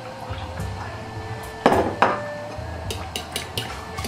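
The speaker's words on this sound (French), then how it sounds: "dans le yaourt on va mettre notre sel, on va bien le mélanger les deux" Yogurt and salt stirred together in a bowl with a spoon, with scraping and a couple of sharp clinks against the bowl over a steady low kitchen hum, close by and without talking.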